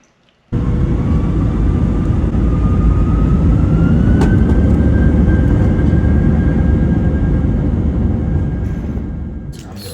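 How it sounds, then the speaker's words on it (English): Inside Gothenburg Airport, a loud, steady aircraft roar starts suddenly and holds as a broad rumble, with a thin rising whine over it, fading slightly near the end. "We are at Gothenburg Airport."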